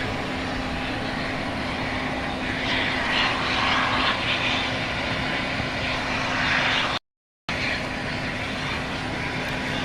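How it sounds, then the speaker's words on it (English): An Eastar Jet airliner at Gimpo International Airport, a continuous distant engine roar with a faint steady hum, heard from an observation deck with no talk. "Here's the E-Star jet"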